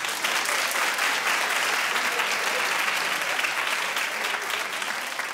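An audience claps steadily throughout, a continuous wash of many hands at moderate level with no voices over it.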